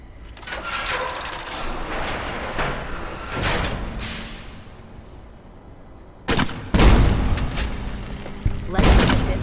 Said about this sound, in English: how big of an explosion would it be if I actually shot them with an actual explosive?